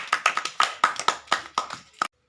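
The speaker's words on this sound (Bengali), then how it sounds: "এটি ছোট হাততালি।" A short round of applause during a village ludo game competition, made of about ten crisp hand claps in an uneven rhythm that stop abruptly after two seconds. The claps are close and fairly loud, with no voices over them.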